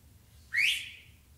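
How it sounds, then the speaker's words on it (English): One short, loud whistle with a rising pitch during a science lecture, sharp at the start and trailing off, over a low background hum. "whistle loud again"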